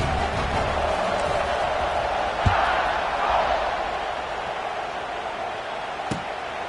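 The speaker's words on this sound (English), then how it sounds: "this crowd is buzzing after that last score" A football stadium crowd at an NCAA game keeps up a steady, broad roar after a score, loud and continuous, with a couple of brief sharp knocks breaking through the din.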